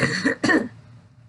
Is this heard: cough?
yes